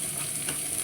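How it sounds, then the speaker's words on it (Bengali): Chopped onion frying in a pan and being stirred, a steady close sizzle with light scraping. "একটা একটু ভালো করে লাল লাল করে ভেজে দিই।"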